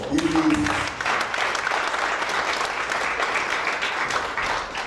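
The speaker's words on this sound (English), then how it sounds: "Can we once again give them a proper round of applause?" An audience at a university student council inauguration ceremony bursts into sustained applause, a steady wash of many hands clapping that holds evenly throughout, with a voice briefly audible at the start.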